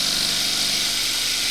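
A tall spruce goblet spinning on a wood lathe while being sanded with 120-grit sandpaper, a steady high whirring hiss with an underlying motor hum, close and continuous.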